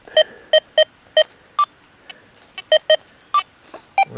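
An XP Deus 2 metal detector gives two-way signal tones, a series of about a dozen short, sharp electronic beeps in an uneven rhythm, loud and close, alternating between a lower and a higher pitch with brief quiet gaps.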